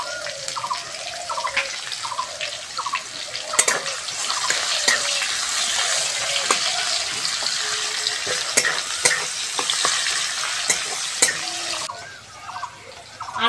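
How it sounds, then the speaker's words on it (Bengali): Chopped onion dropped into oil with cumin and crushed garlic, a loud steady sizzle with intermittent spatula scrapes and knocks against the pan, nearby, dropping quieter near the end. "এবার পেঁয়াজ কুচোনোটা দিয়ে দেবো।"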